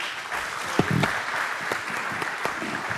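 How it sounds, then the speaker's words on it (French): Conference audience applauding a panel at the end of a session: a continuous wash of many hands clapping, steady and fairly loud, with a few sharper nearby claps standing out. "Je pense qu'on peut les applaudir."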